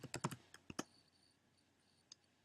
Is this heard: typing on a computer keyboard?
yes